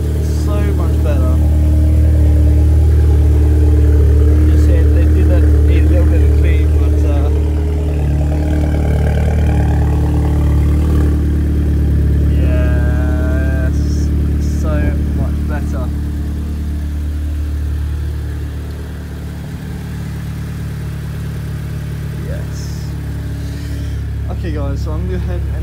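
An Audi S3 engine runs near and steady with low rumble, swelling in places as it revs, while a person talks over it throughout.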